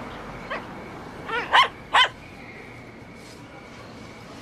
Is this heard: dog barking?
yes